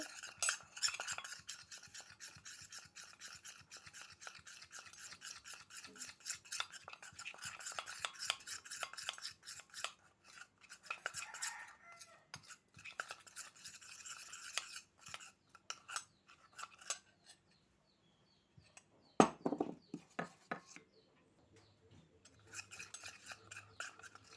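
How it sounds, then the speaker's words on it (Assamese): Ghee and a spoonful of flour are whisked in a bowl, a rapid clicking and scraping of utensil against the dish that continues in quick bursts with brief pauses. "এতিয়া বাতি এটাত ঘি 1 চামুচ লৈছোঁ আৰু 1 চামুচ ময়দা। এইখিনি লৈ ফেটি ল'ব লাগিব।"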